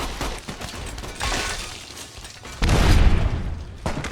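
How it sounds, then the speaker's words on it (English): A thrown grenade explodes in Fallout: New Vegas, a sudden loud boom that breaks in mid-clip and rumbles on for about a second over busy game sounds, with a smaller burst near the end. "Oh boy, that was a big explosion."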